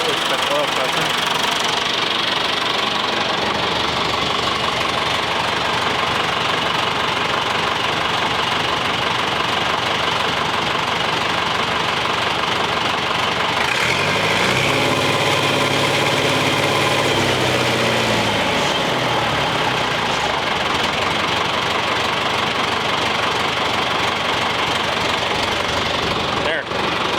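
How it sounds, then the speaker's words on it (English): A John Deere 1085 combine engine idles steadily after repair, a loud continuous rumbling drone with knocking texture throughout, and a brief lower tonal swell midway. "we rubbed her up a little bit and hear the sound"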